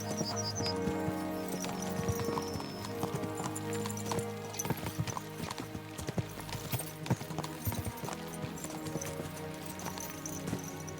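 Hooves clatter in a fast, steady gallop in Kingdom Come: Deliverance II, several horses running together with rhythmic clip-clop over a busy background, no voices.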